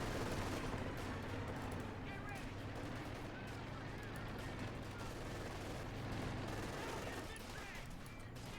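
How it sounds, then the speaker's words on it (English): Continuous machine-gun fire from a Panther tank amid a Company of Heroes 2 battle, a dense, faint rattle of shots blended with distant explosions under a commentator's talk. "gunning away there with its numerous machine guns"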